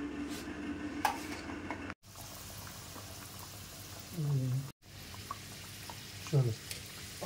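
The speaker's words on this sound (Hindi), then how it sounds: "तो अभी हम सारी एक एक करके लिट्टियाँ डाल रहे हैं तेल में और इनको अच्छे से फ्राई कर रहे हैं।" Litti dumplings frying in hot oil at home in Bihari style, a steady bubbling sizzle with louder bursts as pieces go in, and someone talking over it.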